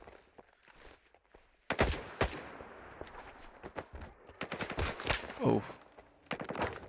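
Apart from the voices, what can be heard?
gunfire against bandits in video game S.T.A.L.K.E.R. 2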